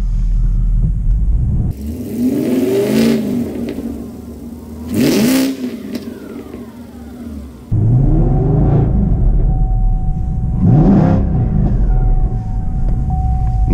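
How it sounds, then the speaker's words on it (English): A car stuck on a snowy driveway, running on bald snow tires with traction control limiting it, revs its engine hard at full throttle in repeated rising surges, loud and close, with no talking. "I'm full throttle right now, the traction control's limiting it."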